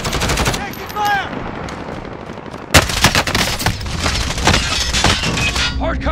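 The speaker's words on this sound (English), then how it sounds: "I'm taking fire!" Call of Duty: Modern Warfare gunfire during a Plunder match: loud, rapid automatic bursts and sharp cracks, with shouted voices over the shooting and a dense volley after a brief lull.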